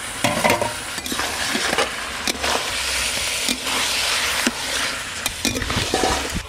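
Ginger-garlic paste sizzles and fries in a pan of cauliflower curry, with a spoon stirring and scraping through it in repeated strokes; the broadband hiss is steady and close, punctuated by sharper scrapes, with no voices.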